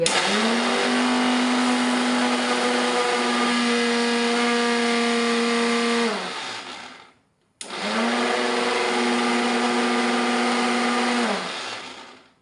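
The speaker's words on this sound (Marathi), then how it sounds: "तर आपण ग्राइंड करून घेऊयात" Roasted almonds whirring in a mixer grinder, two loud steady bursts of high-pitched motor roar that wind down, separated by a brief pause, with no talk.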